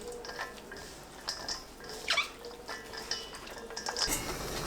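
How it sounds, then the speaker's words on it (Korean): Dried shredded squid being tossed with soju in a bowl, giving soft, irregular rustling and light clinks against the bowl at close range, with several brief louder scrapes. "진미채에 소주 100ml 넣고 버무립니다."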